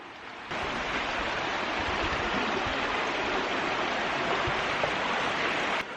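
River water flowing steadily through the Englishman River Valley, a dense broadband rush that starts abruptly and holds at an even level, close and loud with no voices.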